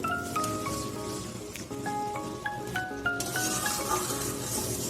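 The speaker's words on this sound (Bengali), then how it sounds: "সেই পেঁয়াজ বাটাটা দিয়ে দিলাম দিয়ে এটাকে কাঁচা গন্ধ যাওয়া অব্দি একটু নাড়িয়ে ফ্রাই করে নেব" Onion paste fries and is stirred in a pan for a chicken dish, a steady close sizzle with scraping stir strokes running throughout, joined by faint tonal clinks and background music.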